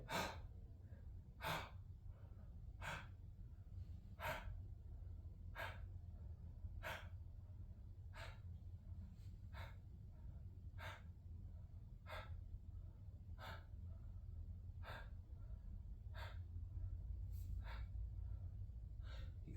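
Repeated sharp open-mouth inhales during a breathing exercise with a modified bow posture, about fifteen quick startle breaths at a steady rhythm, close and clear over a low steady background hum.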